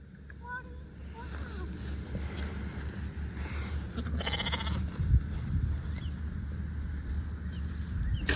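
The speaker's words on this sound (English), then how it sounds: "Come on, sheep." Sheep on a farm near an old barn bleat several times in short calls, mid-distance and moderately loud, while people talk and move around nearby.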